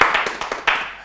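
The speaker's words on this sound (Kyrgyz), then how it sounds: "Кол чабуулар Нузу Парага." A small audience claps for Nuzu Para at a couples' game show, about half a dozen distinct, close hand claps in an uneven rhythm that fade out quickly.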